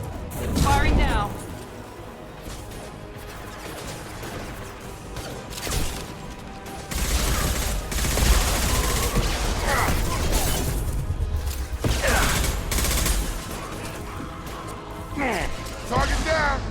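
Gunfire in the Mass Effect 2 video game, a busy stretch of repeated impacts and mechanical clatter with bursts and crashes throughout, loud and close, with game voices mixed in.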